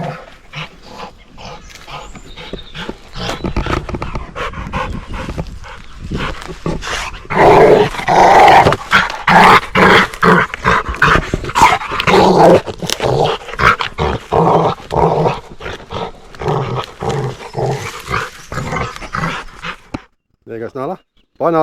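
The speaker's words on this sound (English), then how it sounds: "Big dog, big stick." Nala, a big dog carrying a big stick outdoors by an overgrown road, growls and pants up close in rough bursts, mixed with heavy breathing and handling noise while a person talks throughout.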